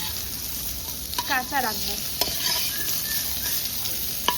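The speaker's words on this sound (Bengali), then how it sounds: "এই পেঁয়াজগুলো আমি বড় করে এই জন্যই কেটেছি কারণ এইগুলো আমি সম্পূর্ণভাবে ভাজা করব না" Large-cut onions sizzle steadily in a hot pan while a spatula stirs them in a few quick scraping strokes. Someone speaks briefly over the frying.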